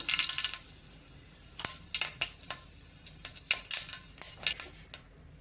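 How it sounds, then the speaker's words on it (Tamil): Mustard seeds and urad dal dropped into hot oil for idli upma, heard as a run of sharp, irregular crackling pops and spatters, fairly close and standing alone with no talking. "இப்போ கடுகு உளுந்து போட்டுக்கலாம்"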